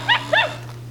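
A small toy puppy dog gives two short, bright electronic barks in quick succession, close and alone over a steady low mechanical hum, then falls quiet.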